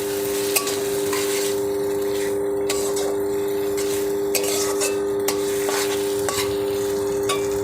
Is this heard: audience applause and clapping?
no